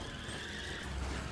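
In the LEGO Indiana Jones 2 video game, a car drives with a steady engine rumble and a hissing tire skid that runs throughout, moderately loud with no talk.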